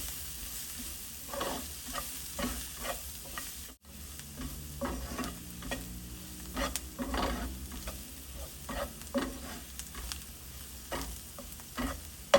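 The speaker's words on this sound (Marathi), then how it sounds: "आपण आता हे छान परतून घेऊया" Red chilli powder, turmeric and garam masala sautéed in a pan for a dry drumstick vegetable dish, with a soft steady sizzle broken by repeated scraping stirs of the spoon, close and moderately quiet, no talking.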